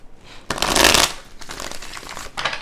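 Tarot cards being riffled and shuffled in quick bursts, close and fairly loud, with a brief pause before a final flurry.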